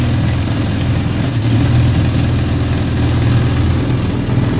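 An antique 1953 Firestone outboard motor running steadily, a loud, close, continuous low engine drone with even vibration and no pauses.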